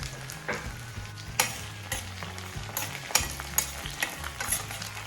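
Halved small onions and green chillies sauté in a pan for an anchovy fish curry, giving a steady sizzle with clinks and scrapes of stirring throughout.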